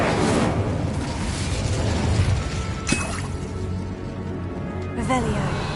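An Incendio fire spell cast in Hogwarts Legacy, a whooshing burst of flame with crackling roar followed by a sharp impact and shattering bursts, heard close amid game sound effects and overlapping voices.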